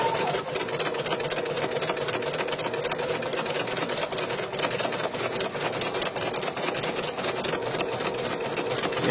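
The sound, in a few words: embroidery machine running a basting stitch around the frame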